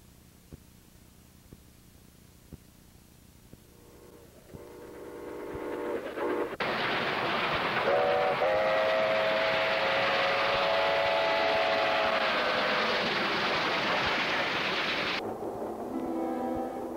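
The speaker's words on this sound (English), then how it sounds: "we were on the train heading back to Arkansas" A train riding on rails: faint rumbling at first, then a loud steady roar of wheels and carriages swells in and holds for several seconds before dropping back to a quieter rumble.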